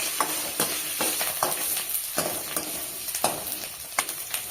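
Onions with coriander and curry leaves fry in a hot pan with a steady sizzle, broken by repeated scraping stirs of a spatula, close and clear with no talking.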